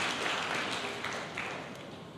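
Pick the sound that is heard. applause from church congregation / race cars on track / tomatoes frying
applause from church congregation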